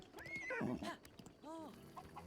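A horse in the video game The Legend of Zelda: Breath of the Wild lets out a short whinny followed by a second neigh, close and moderately loud, with faint hoof sounds between.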